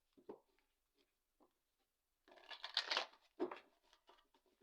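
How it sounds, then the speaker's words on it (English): Quiet papery shuffling and rustling of tarot cards, a few soft taps followed by a brief burst of card riffling, close and unaccompanied by voices. "One more shuffle."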